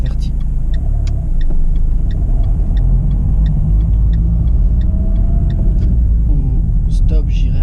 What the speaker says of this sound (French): je mets ma première, j'enlève mon frein à main et je vais quitter mon stationnement